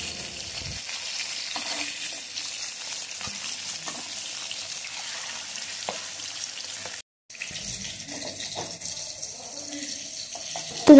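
Hilsa fish pieces fry lightly in hot oil, a continuous soft sizzle with scattered spatters and clinks, cut by a short silent gap before the frying resumes.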